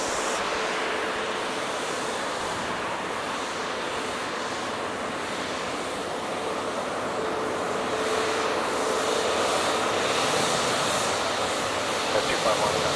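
A jet airliner at Toronto Pearson airport on an icy winter day, heard as a steady, broad engine roar from a distance that swells slightly louder toward the end.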